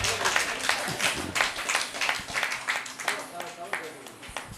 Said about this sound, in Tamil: நல்ல பலத்த கரவொலியோடு அவர்களை அன்போடு வரவேற்கின்றோம்